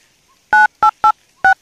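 A telephone number is tapped out on a keypad, giving five loud, clipped dual-tone beeps in an uneven rhythm against near silence.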